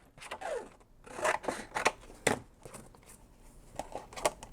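Scissors cut through scrap paper in several quick snips and crisp slicing strokes, close and fairly quiet, with short pauses between cuts.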